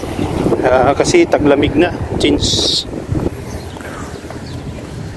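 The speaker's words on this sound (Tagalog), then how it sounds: "lakas yung hangin guys" Strong wind roars across the microphone in gusts while a person talks over it.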